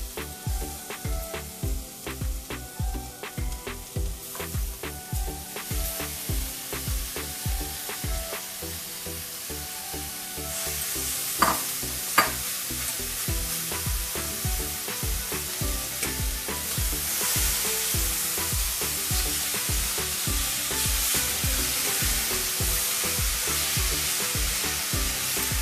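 Meat sizzles loudly in a pan with garlic ginger paste, with repeated close stirring clatters early on that give way to a fuller, steady hiss of frying.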